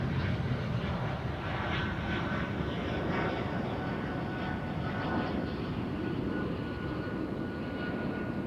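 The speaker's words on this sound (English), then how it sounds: "E2 Embraer, KLM flight 1653." KLM Embraer E2 airliner at Amsterdam Schiphol Airport, a loud, steady broadband engine roar that holds throughout, close and continuous with no talk over it.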